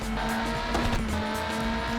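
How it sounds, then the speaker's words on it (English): A Lister race car in the PS1 game Le Mans 24 Hours drones with a steady, loud engine tone while its tyres squeal briefly as it slides through a corner, with no talking. "Lister car getting a little bit loose through there."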